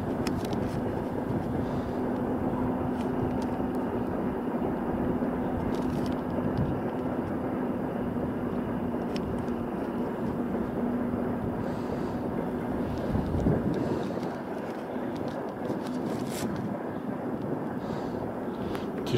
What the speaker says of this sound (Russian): И вот длинный-предлинный поезд товарный.